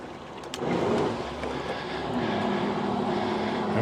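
A Thetford RV macerator pump on the gray tank starts up and runs, giving a steady mechanical whir that rises after a brief quieter start and then holds close and even.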